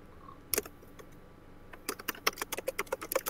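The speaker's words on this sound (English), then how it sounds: "While Matt's typing" Quiet computer keyboard typing, a couple of isolated keystrokes followed by a quick run of clicks, close and alone.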